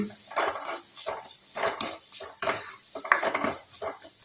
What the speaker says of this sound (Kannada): ಇವಾಗ ಒಂದು ಅರ್ಧ ಸ್ಪೂನ್ ಉಪ್ಪು ಹಾಕಿ ಚೆನ್ನಾಗಿ ಮಿಕ್ಸ್ ಆಗಬೇಕು.